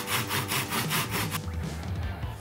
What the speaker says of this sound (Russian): сверху делаю пропил ножовкой